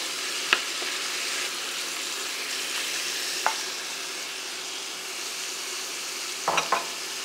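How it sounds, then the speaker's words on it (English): Beef pieces, 800 grams, sear and brown in a hot pan for boeuf bourguignon, giving a steady, soft sizzle with a few sharp clicks and pops. "And the meat here is just going to get a little brown, nice surface."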